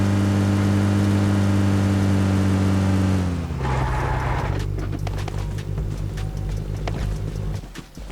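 Vehicle engine in the video game PUBG drones steadily at a low pitch, then drops and shifts to a rougher rumble as driving continues, with no talk.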